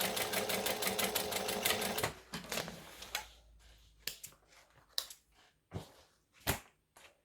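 A sewing machine stitches through a vinyl handbag in a fast, even run of needle clatter, then stops, leaving scattered clicks and handling taps.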